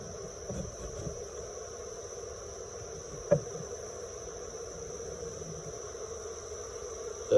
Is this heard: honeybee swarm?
yes